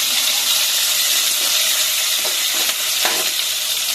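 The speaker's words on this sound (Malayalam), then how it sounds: "വെളുത്തുള്ളി ഒന്ന് എണ്ണയിൽ ഫ്രൈ ആയതിനു ശേഷം നമുക്ക് ഇഞ്ചി, പച്ചമുളക്," Garlic, ginger and green chilli fry in hot oil, a steady bright sizzle that runs the whole time, with a few soft stirring scrapes near the middle and no voices.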